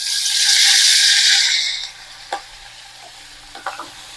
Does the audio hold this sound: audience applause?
no